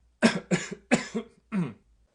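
Four or five short, sharp coughs in quick succession from one person, close and clear, with silence after.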